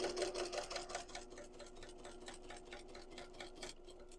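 A sewing machine stitches a quilted tote strap stiffened with flex foam, pivoting at the strap's edge into a 3/8 inch seam. The motor hums steadily under a rapid, even needle clatter that runs close and continuous with no talk.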